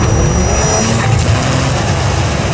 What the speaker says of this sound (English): This is the BMW M3 CS.